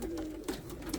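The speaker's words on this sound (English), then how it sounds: "this male right here, I now see him cooing and stuff and going after feed" Indian fantail pigeon, a young male in a loft, coos in low, steady, close murmurs with a couple of stronger swells, no talk over it.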